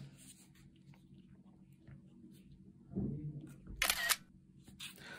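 An iPhone plays its camera-shutter screenshot sound when the power and home buttons are pressed together, a single crisp click near the end over quiet room tone with faint handling noises.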